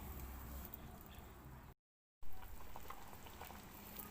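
Rice porridge (khao tom) boils in a pot with a steady, dense bubbling hiss, broken by a brief silent gap midway before the bubbling resumes at the same level.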